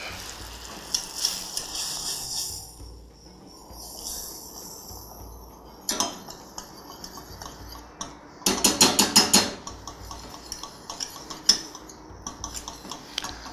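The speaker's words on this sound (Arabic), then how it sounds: "هاخد انا معلقتين دقيق وشويه صغيره، هبدا ان انا اقلب" A spoon stirs two spoonfuls of flour in a metal pot, making intermittent scraping and clinking. The strokes are quiet at first, then come as a rapid burst of clattering scrapes, with occasional sharp knocks afterward.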